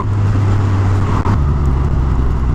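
A 2019 Suzuki Katana motorcycle with its GSX-S engine runs loud and close, a dense steady engine drone with a low throb and a brief dip midway.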